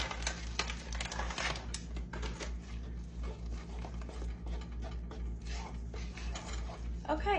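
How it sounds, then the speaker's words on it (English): Gluten-free banana nut bread batter stirred in a bowl with a spoon, giving a steady run of close clinks and scrapes against the bowl over a low background hum. "So we're going to stir this up and see what it looks like."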